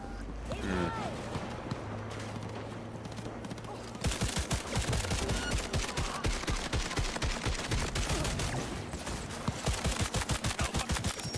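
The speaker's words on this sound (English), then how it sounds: "I'm just opening fire on everyone." Rapid bursts of automatic gunfire from the video game Cyberpunk 2077, loud and dense, with a quieter stretch of game sounds before the firing erupts and continues steadily to the end.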